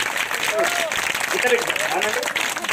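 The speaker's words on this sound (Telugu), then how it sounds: "గట్టిగా చప్పట్లు కొడదాము." A church congregation at a Christmas gospel meeting claps loudly together, producing a dense, steady wash of applause that fills the whole moment, while someone talks over it.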